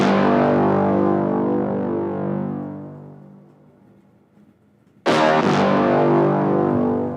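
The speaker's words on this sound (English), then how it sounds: "This brass is from the Bad Boy preset from Anna 2." A bold synthesized brass chord from the Bad Boy preset in ANA 2 swells and slowly fades, then a second loud, bright brass hit cuts in sharply and sustains to the end.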